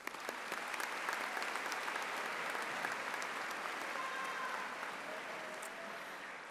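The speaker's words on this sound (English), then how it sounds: "A round of applause for the parents" A large high school graduation crowd gives the graduates' parents a sustained round of applause, dense even clapping from many hands that swells and holds, then slowly tapers.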